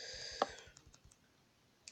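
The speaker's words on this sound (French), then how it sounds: "si vous entendez les clics ou les tapotements de mon mini clavier" Soft clicks of small keyboard keys, one sharper press followed by a quick string of lighter taps and a final click, close and quiet.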